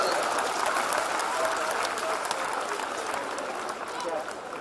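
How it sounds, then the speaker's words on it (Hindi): An audience claps continuously at a live Hindi stage performance, a full, steady patter of many hands at moderate distance, with faint crowd murmur mixed in. "आप तो खाली तालियां बजा दो तो ज्यादा अच्छा लगेगा"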